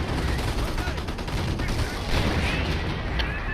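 Artillery and gunfire in a WWII strategy video game, a dense rolling clatter of shots and blasts filling the whole stretch at steady loudness, with no voice over it.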